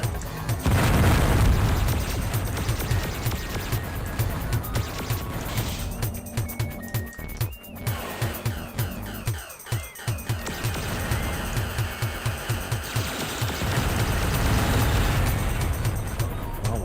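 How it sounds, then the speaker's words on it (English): Homing missiles explode over and over inside the Descent game, loud booming blasts arriving in a steady run across a dense, busy game soundscape with low engine hum and constant effects. "God, those homing missiles just never stop."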